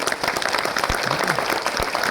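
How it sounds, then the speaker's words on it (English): Steady applause from a stage-event audience, dense clapping filling the whole moment at a fairly loud, even level. "give a big round of applause to all three of them"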